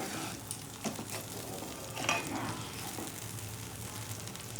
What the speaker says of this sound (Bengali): ঝোলটা ফোটা অবধি আমি একটু নেড়ে নিচ্ছি যাতে দইটা না কেটে যায়